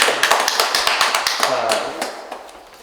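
A small gallery talk audience gives a round of applause, with distinct sharp claps in quick rhythm that thin out and fade toward the end while a host speaks briefly at the start.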